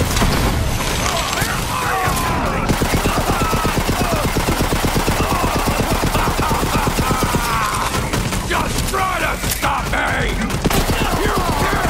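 Sustained rapid automatic gunfire in Borderlands 3, loud and continuous for most of the stretch, with crashes and impacts mixed in and someone talking over the shooting.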